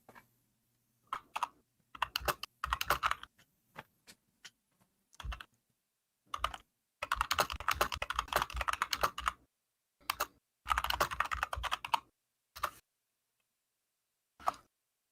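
Keyboard typing in short bursts of quick, clicky keystrokes separated by silent gaps, with one longer dense flurry in the middle, close and isolated with no talk.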